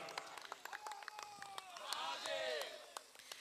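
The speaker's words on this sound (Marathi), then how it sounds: "कॅरेक्टर कुणाचा आहे त्यांच्यासाठी जोरदार टाळ्यांचा प्रतिसाद द्यायचा आहे" At a Shiv Jayanti stage event, an audience greets the entry of a Chhatrapati Shivaji Maharaj character with scattered, then building claps, mixed with rising whistles and cheers.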